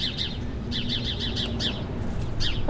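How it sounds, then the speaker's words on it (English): A sparrow gives sharp, repeated high alarm chirps in quick bursts, a pause between bursts, over a steady low rumble of background noise. "that little sparrow or whatever, that's their alarm call"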